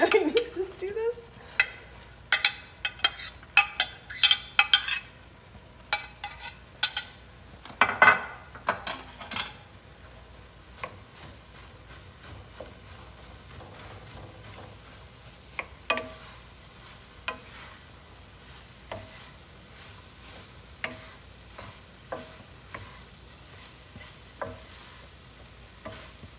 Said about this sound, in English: while I'm stirring this and the rice is absorbing all of that flavor